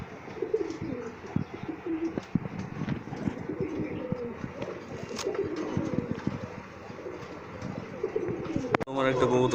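Pigeons, including coloured fancy breeds kept for sale, coo softly and repeatedly in the background while someone talks nearby.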